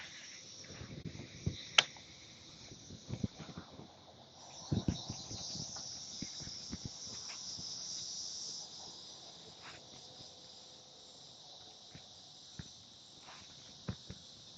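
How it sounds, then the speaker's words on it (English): Insects drone on a lakeside during a bass fishing tournament, a faint steady high-pitched buzz that swells in the middle, with scattered knocks and bumps from the boat nearby. "Hear the cicadas going today?"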